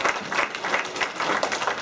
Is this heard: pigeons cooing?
no